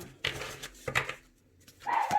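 A female dog gives a few short barks and whines in quick bursts, ending in a higher drawn-out whimper, fairly close and alone with no talking.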